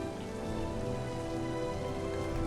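Rain falling steadily in a TV show scene, a continuous dense patter on surfaces without talk.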